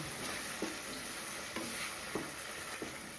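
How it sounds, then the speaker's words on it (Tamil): A spoon scrapes and stirs a thick ground tomato chutney paste frying in oil over a low flame. The strokes come at a regular rhythm over a constant soft sizzle, up close, with no voices. "இப்போ அடுப்பை சிம்மில் வச்சுட்டு நல்லா கிளறணும் அடி பிடிக்காமல் கிளறணும்"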